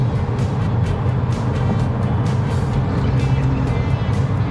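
2019 BMW 320d GT M Sport diesel cruising up a bridge at about 120 km/h, a steady low interior road and engine hum with tyre rumble, quiet and smooth, no speech.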